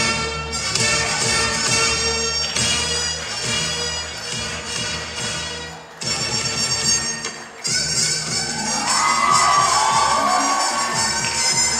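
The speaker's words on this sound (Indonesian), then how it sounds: "berikan tepuk tangan yang paling hangat" Children in a crowd cheer and shout loudly and continuously at a Jakarta award ceremony for the governor, with music-like tonal bands running underneath and a brief dip partway before the noise swells again.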